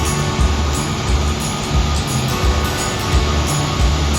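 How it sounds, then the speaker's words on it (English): Big falls on the Chute River at Ticonderoga give off a steady, dense rush of water with no break, loud and close. "the rushing noise you hear are the big falls that are over here"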